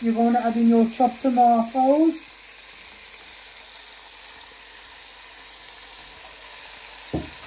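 Chopped tomatoes land in a sizzling pan of prawn, chorizo and bacon stew. A person talks briefly at first, then a low, even hiss carries on alone, with a faint knock near the end.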